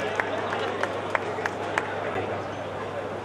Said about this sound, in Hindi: तालियों से उत्साहवर्धन करें।